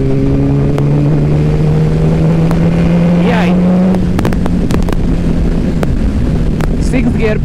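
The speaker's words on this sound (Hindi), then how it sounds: "सिक्स गियर पर मैंने डाला था और उसके बाद फुल एक्सेलरेट करने की कोशिश करी थी" A 2007 Yamaha YZF R1 1000cc cross-plane engine is pushed to full throttle in sixth gear, its steady rising drone climbing in pitch amid heavy wind rush, with a few sharp clicks and knocks later on.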